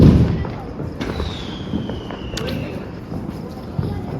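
Diwali firecrackers burst in a sharp, close series, with a loud crack at the start and scattered bangs and pops after, one whistling streak sliding across the middle, and background noise throughout.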